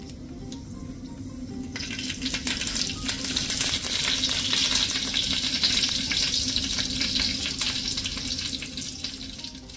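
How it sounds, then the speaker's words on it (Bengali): Dried red chillies, mustard seeds and curry leaves sizzle in hot white oil for a tempering, a loud steady crackling hiss that swells after a couple of seconds and carries on without talk. "সাদা তেল গরম করে ওর মধ্যে শুকনো লঙ্কা আর সর্ষে ফোড়ন দিয়ে, আর দেব হচ্ছে সেই কারি পাতা"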